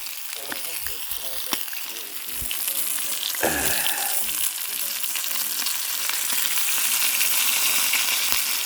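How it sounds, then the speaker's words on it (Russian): Bream fish frying over campfire coals outdoors: a continuous crackling sizzle that grows denser and louder, with occasional sharp pops and some faint voice early on. "Пожарю леща."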